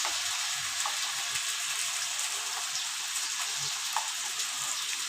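Chopped onions fry in white cooking oil for a home-style tilapia and potato dish, giving a constant close hiss with scattered pops and crackles throughout.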